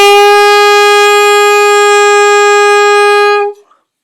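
A single full, steady saxophone note held loud and close for over three seconds with a rich tone, then cut off cleanly into silence.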